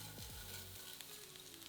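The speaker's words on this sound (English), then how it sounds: "So add that rice in and stir until the oil has coated the rice." Arborio rice for a leftover turkey risotto goes into an oiled pan and is stirred, producing a brief, soft sizzle with light scraping.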